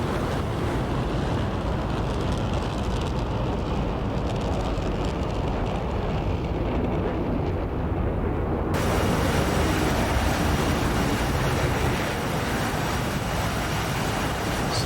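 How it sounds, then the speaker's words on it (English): F-16C jet in the DCS video game jettisoning stores over a lake: a steady, loud broadband roar of rushing air and engine noise that runs unbroken, brightening sharply in the upper range partway through and holding there. "I'm going to jettison my stores over a lake so that hopefully no one gets hurt."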